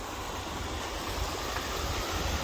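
Salt Creek water rushes steadily beneath a bridge, a dense, even broadband wash that stays at the same level throughout, with no voices.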